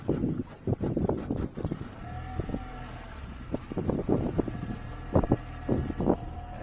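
A boat engine idles roughly and unevenly, a little too high, with irregular sputtering pulses and knocks close by, wind buffeting the microphone and no talking.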